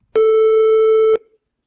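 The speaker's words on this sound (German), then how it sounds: "Und der Sinus, der hat jetzt gar keine Obertöne mehr." A synthesized sine-wave tone sounds alone for about a second at a single steady pitch, loud and even, then cuts off with a brief faint decay into silence.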